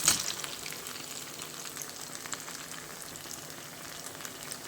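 Corn vadas deep-fry in a small kadai of oil, giving a fine, even crackling sizzle that holds steady throughout after a brief louder burst at the start, with no voices.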